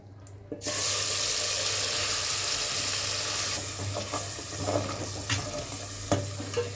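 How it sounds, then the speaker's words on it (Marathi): A loud, steady sizzle of spices hitting hot oil in a pan for tempering radish-leaf sabzi, hissing continuously with a few sharp pops and crackles near the end. "आता आपण भाजीला फोडणी देऊन घेऊ"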